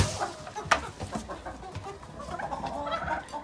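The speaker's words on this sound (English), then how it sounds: "This is the cockerels, our little bachelor group." A small group of young cockerels on a small farm clucks and chatters nearby, with irregular overlapping clucks and one sharp louder call early on.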